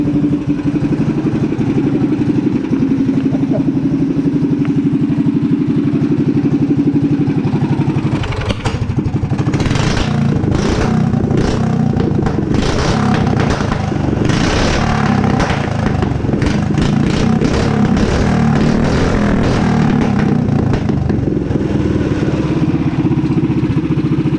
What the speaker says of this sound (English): Might be able to catch some flames at the exhaust pipe over there.